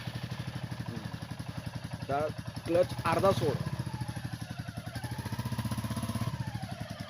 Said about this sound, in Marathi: हा, कर चालू इंजिन.